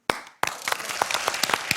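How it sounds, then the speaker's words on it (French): A short burst of audience applause at a televised French quiz show, many hands clapping in a quick, crackling patter after a brief pause. "Est-ce qu'on peut applaudir Véronique?"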